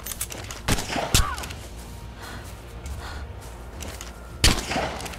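Gunfire in the ARK Survival Evolved dinosaur survival game, a few sharp shots at irregular intervals over a low rumbling game background, fairly close.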